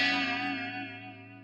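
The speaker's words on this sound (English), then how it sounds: "Sounds like a tape echo not working right." An electric guitar run through a tape echo effect that is not working properly rings out as a single sustained chord. It carries a smeared, wavering tail that slowly fades, with no talk.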